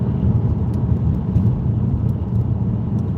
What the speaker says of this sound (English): This car takes time to warm up.